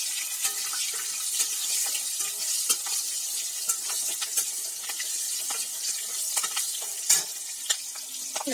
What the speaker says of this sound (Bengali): এবার আমি গরম তেলের মধ্যে দিয়ে দিচ্ছি সাদা জিরা